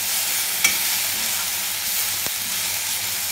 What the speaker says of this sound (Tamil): இப்போ இதெல்லாம் வதக்கிட்டோம்